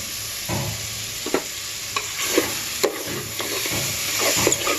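Shahi jeera spices sizzle in hot oil in a pan for chicken biryani, a steady close frying hiss broken by scraping stirs at intervals.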